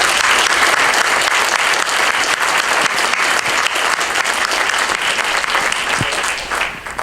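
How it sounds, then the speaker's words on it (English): An audience at a community gathering gives a sustained round of applause, dense steady clapping that fills the room for several seconds before tapering slightly at the end, with no talk over it. "I just think we owe a round of applause to Heather and Kristen"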